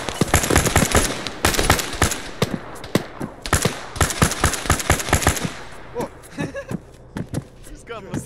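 Rapid bursts of rifle and automatic fire in the military shooter game Arma III, loud and close with sharp cracks, overlapping briefly with players talking over comms.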